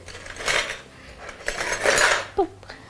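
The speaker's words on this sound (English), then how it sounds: "Take a clean spoon." A metal spoon scrapes and clinks against glass jars while yogurt culture is portioned out, with a few close rubbing scrapes and one sharp bright clink near the end, no speech.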